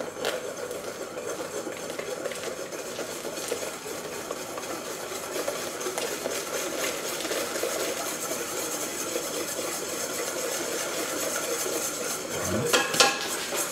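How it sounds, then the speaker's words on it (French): Hot milk poured into a batter for a gâteau basque and stirred in a pan, steady scraping and clinking of a utensil against metal, close and continuous, with a louder scrape near the end. "On va maintenant mettre le lait, donc la moitié du lait dans la préparation."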